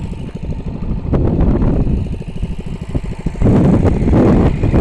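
A small mini bike engine puttering around a campground, a steady low rumbling idle that swells louder toward the end, fairly close, with no talk.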